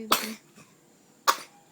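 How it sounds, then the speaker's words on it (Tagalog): A baby coughs twice, two short, close, harsh bursts about a second apart with quiet between. "Kaya nag-ubo man si baby."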